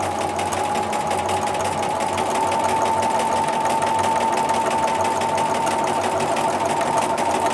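A sewing machine runs continuously at steady speed, stitching quilting lines across a checkerboard quilt with a fast, even mechanical whir and hum. It is close and loud, with no talking.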